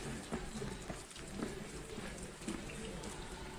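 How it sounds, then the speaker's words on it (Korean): Steady rain falls outside a wooden building in a landscaped yard near Jeju, a soft continuous hiss with scattered faint drips and patters, quiet and even throughout. "비가 오네요"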